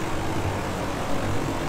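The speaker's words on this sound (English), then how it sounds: "I'm about to come in with a fucking plane!" In Battlefield 5 gameplay, a fighter plane's engine roars in a dense, steady drone that is fairly faint and continuous, with no talk over it.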